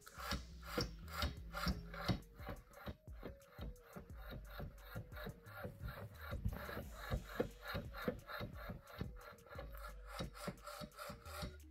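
LUK dual-mass flywheel for a four-cylinder 2.0 TDI Audi A4 B8 diesel is rocked by hand, giving a quiet, rhythmic series of metallic knocks and rubbing clicks, repeated rapidly back and forth.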